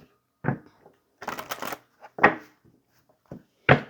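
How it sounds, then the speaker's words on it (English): A deck of cards is shuffled in a few quick bursts, crisp riffling and tapping close by, separated by short silences. "All right, let's continue to shuffle."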